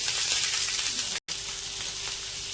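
Onions and green chillies fry in hot oil with mustard seeds and curry leaves for a roadside-style tomato sambar, producing a steady, close, bright sizzle that cuts out for an instant midway, with no talking.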